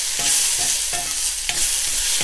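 Onion and tomato sizzle steadily in a pan for a vegetable kadai gravy, with a few scraping stirs cutting through the continuous frying hiss, close and fairly loud.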